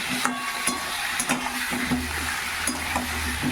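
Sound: taro and potato frying after tempering spices

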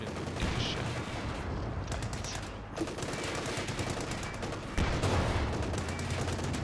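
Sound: gunfire in a World War II video game, Battle of Caen

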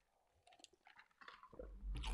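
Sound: person chewing ice

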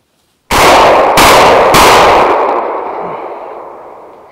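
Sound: gunshot while hunting game birds

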